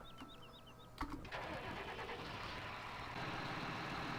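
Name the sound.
vehicle engine starting in video game Farm Sim 17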